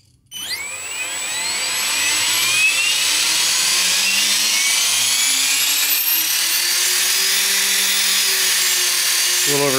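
An iKon RC helicopter motor on a bench test, with no blades fitted to the head, spools up from silence into a loud, steady whine that climbs in pitch and then holds high and constant.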